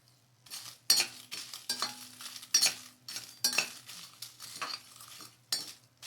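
Spices and Byadagi chillies being fried in a pan for a Konkani-style raw banana and yam gashi, with repeated metal clinks and scrapes of a spoon stirring, close and fairly loud in uneven bursts over a faint sizzle.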